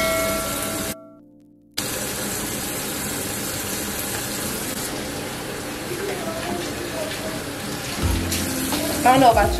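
Tap water running steadily during handwashing, a continuous hiss and splash that briefly drops out near the start, then resumes with some handling noise and a voice toward the end.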